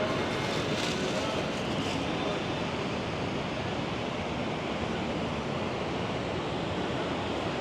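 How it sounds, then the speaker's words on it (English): Ocean surf rolls in at Da Nang beach in the rainy season, a steady, loud wash of breaking waves filling the scene without pause, with no voices heard. "nice, these waves. And the ocean actually looks clean."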